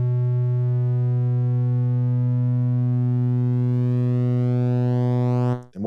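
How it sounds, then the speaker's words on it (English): One sustained synthesizer note held steadily while its waveform is skewed from triangle toward sawtooth, upper harmonics gradually growing brighter before it cuts off abruptly; loud, clean and alone. "we're changing this triangle into something that looks more like a sawtooth, which is very, very bright"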